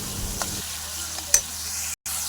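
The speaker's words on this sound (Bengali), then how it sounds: "চলো এটা ভালো করে কষিয়ে নিতে হবে" Spice masala of chili and turmeric powder sautéed in a pan for a tilapia fish curry, a brief, steady sizzle with a couple of stirring scrapes, close and even, cutting out for a moment near the end.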